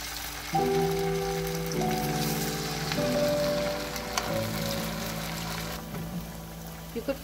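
Soft crackling sizzle of sabudana vada patties frying in oil over a medium flame, steady and fairly quiet, with a few tonal hums layered over it.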